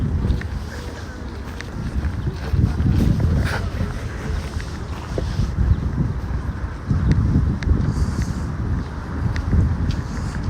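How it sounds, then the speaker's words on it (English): Strong gusts of wind buffet the microphone on Malaya Bronnaya Street in Moscow, a loud, rumbling roar that swells and eases in waves with a few faint street sounds behind it. "It's super windy here right now."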